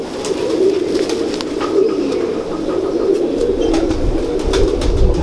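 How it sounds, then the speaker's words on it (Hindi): Ferozpuri pigeons coo repeatedly in low, rolling calls, close and clear over a steady background hum, with no talking. "ये फिरोजपुरी कबूतर है"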